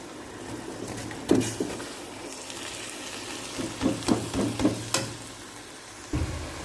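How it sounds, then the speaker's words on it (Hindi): Cooked rice being stirred into sugar syrup for sweet zarda in a home kitchen, with soft wet sizzling and a few scraping, sloshing stirs of the spoon at moderate volume. "अभी हमने इसमें चाश में जो है राइस को मिक्स करना है।"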